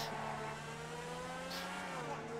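A steady, droning engine hum from the Tigon (De Tomaso P7) sports car in GTA 5 Online holds a constant pitch throughout, smooth and continuous with no revving.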